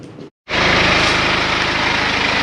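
A car engine idles steadily after a fuel injector cleaning done without removing the injectors, a dense loud hum that starts abruptly after a brief silence and then runs on unbroken.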